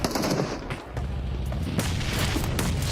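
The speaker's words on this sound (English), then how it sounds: "So many nades thrown at Toshpik." Grenade blasts and gunfire in a PUBG Mobile esports grand final match, a dense, loud barrage of booms and shots overlapping continuously with no pause and no voices.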